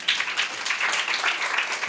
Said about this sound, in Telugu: గట్టిగా చప్పట్లు కొడదాం తల్లి.